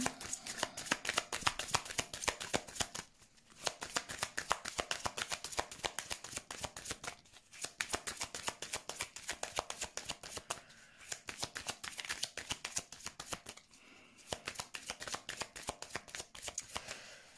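Tarot cards being shuffled by hand, a close, steady rapid riffling and flicking that runs almost continuously, broken only by a few brief pauses.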